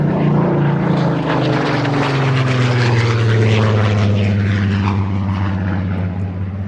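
A propeller aircraft passes close and loud, its engine drone and airscrew throb steady at first and then sliding lower in pitch as it moves away, with no talk over it.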